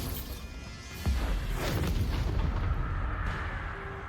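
Spell blasts from the explosive Confringo and Bombarda charms in the Hogwarts Legacy video game, a sharp booming impact about a second in followed by a rumbling, crackling burst that lingers, with a faint tonal whine near the end.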